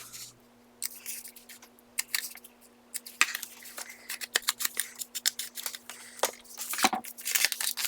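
Scissors snip at an angle in close, crisp bursts, starting sparse and quickening into a dense run of sharp cuts over a low steady hum, with no talking.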